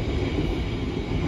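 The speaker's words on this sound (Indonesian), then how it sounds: "sesaat lagi kereta api Kuto Jaya Selatan tambahan akan tiba di stasiun Maos" The Kutojaya Selatan passenger train rolls in toward Maos station, a close, steady low rumble of carriages and wheels over a short stretch.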